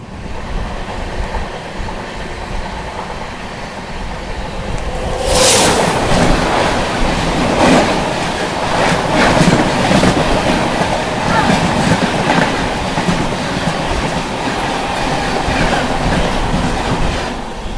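Poorvottar Sampark Kranti Express rolling on the rails between Silchar and Delhi, heard from onboard as a loud, continuous rumble with rhythmic clickety-clack of wheels over rail joints and a sharp burst of noise partway through.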